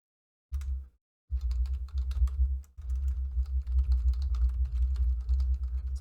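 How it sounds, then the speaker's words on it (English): Typing on a computer keyboard while a math midterm is being set up, with dense rapid key clicks in bursts after a brief pause near the start, close and fairly loud, with no speech. "And then you're going to type your meaningful title."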